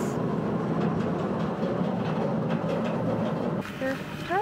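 A train passes at the railway station in Sliudianka, Russia, with a steady, loud rolling rumble that eases near the end, where brief voices come in.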